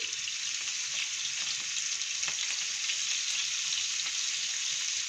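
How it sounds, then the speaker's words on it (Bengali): Prawns frying in hot oil give a constant, close crackling sizzle with faint scattered pops, even in loudness throughout and heard alone, without speech. "তো আমি গরম তেলের মধ্যে দিয়ে দিয়েছি চিংড়ি মাছগুলো।"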